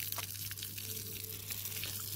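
Water hissing and splashing steadily onto chilli plants on a farm, a close continuous spray with no talking.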